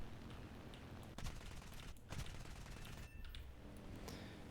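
Rapid cannon bursts from a heavy twin-engine night fighter aircraft in the War Thunder combat game, dense continuous rattling fire with a few sharper volleys, loud and close throughout.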